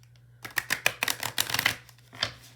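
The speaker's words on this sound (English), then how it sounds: "Give them a good shuffle." A deck of Native American oracle cards is shuffled by hand, giving a run of crisp riffling snaps and flutters close up, followed by a short final burst, with no talk.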